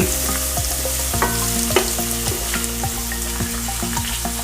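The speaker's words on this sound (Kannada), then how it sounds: "ಇದನ್ನು ಒಂದ್ಸಲಿ ಈ ರೀತಿ ಎಣ್ಣೆಲಿ ನೀಟಾಗಿ ಫ್ರೈ ಮಾಡ್ಕೊಳ್ಳೋಣ" Upma masala fries in oil in a pan, a constant close sizzle punctuated by repeated rhythmic scrapes and clinks of a ladle stirring against the metal, with no voices.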